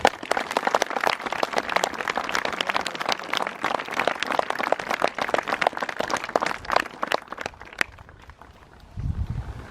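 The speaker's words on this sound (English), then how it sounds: "Can we give them a round of applause?" Sustained audience applause at an outdoor Chattri memorial service honouring veterans, dense clapping that runs for several seconds before fading and breaking off into quiet.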